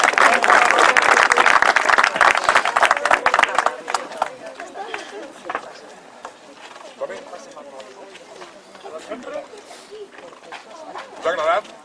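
An audience claps loudly after a saxophone concert, dense applause for about four seconds that thins into scattered claps and crowd murmur, with voices talking over it near the end.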